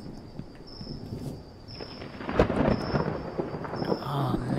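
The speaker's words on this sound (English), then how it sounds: "Watch the rain come down, because it's about to rain." Rumbling thunder rolls through steady rain in a video game, swelling to a louder crack midway before settling back into a continuous downpour, with no talk over it.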